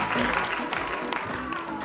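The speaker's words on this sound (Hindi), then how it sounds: "Can we have a big round of applause?" Audience applause for Sunny Goraya at the Kala-Samruddhi International Film Festival 2019 in Mumbai, a steady wash of crowd clapping at moderate volume with a brief voice heard over it.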